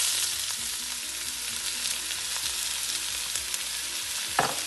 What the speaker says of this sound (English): So our pan is hot now.